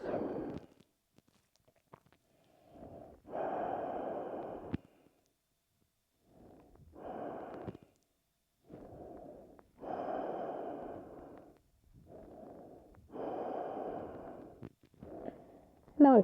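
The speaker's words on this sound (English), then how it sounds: "Strong breaths." Strong, deliberate breaths during a yoga core exercise, long audible inhales and exhales repeating in a slow rhythm with quiet pauses between, close to the microphone.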